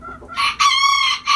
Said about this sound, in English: Alright, so we're here in Lamp's prestigious chicken house.